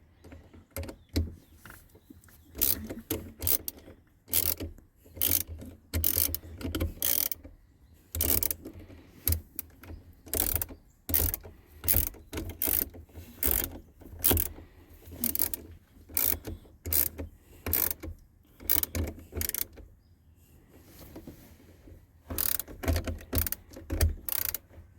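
Ratchet wrench tightening the battery hold-down clamp on a 2014 Chevy Traverse, a steady run of close, crisp clicking bursts in quick repeated strokes with brief pauses between sets, no talking.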